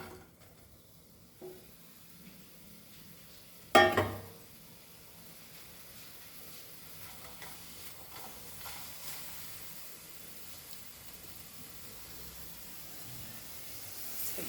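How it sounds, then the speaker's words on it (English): Mixed vegetables roasting in a teaspoon of oil over a high flame for Goan vegetable pulao, giving a steady low sizzle and hiss with a sharp clatter of stirring near the start, faint and without talk. "I'm roasting this on a high flame."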